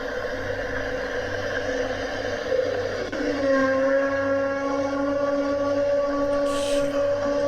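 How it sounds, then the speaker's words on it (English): A long, eerie, tonal howl echoing through trees at a rest stop rises and then holds steady over a low background rumble, drawn out and mournful. "It sounds like a werewolf in pain. An ominous howl echoes through the trees."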